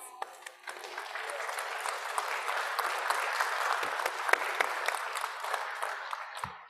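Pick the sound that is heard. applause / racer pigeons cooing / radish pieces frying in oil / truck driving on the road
applause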